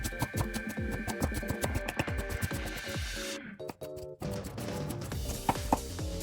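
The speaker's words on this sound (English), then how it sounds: "First, I mince the cabbage of 1 cm square." Knife chopping cabbage into small squares on a cutting board for okonomiyaki, fast steady close taps with a brief pause partway through, no voices.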